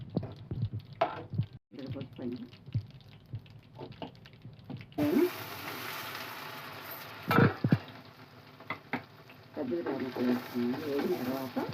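Curry leaves dropped into hot tempering oil with cumin and dried red chillies crackle and sizzle close by, with bursts of popping between quieter stretches and someone talking over parts of it.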